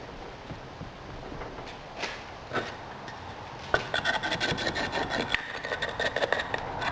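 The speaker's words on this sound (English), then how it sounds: "Now we go with our fingers, just push in that little bit to make it pack in firmly." Fingers push and pack casting sand firmly into a mould for a cast bronze house number, giving close gritty rubbing and scraping that grows busier and louder in the second half.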